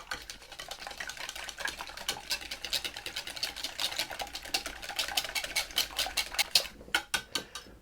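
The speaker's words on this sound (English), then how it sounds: "I'm going to take a whisk and just whisk up those eggs quickly." A whisk beating free-range eggs in a bowl, rapid close metallic ticking strokes in a fast steady rhythm, slowing to a few separate taps at the end.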